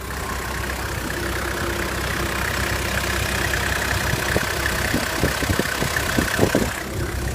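The diesel engine of a 2003 Toyota Land Cruiser 70 Troop Carrier idles close by, a steady low smooth rumble with a faint light ticking, holding even throughout with no talk over it.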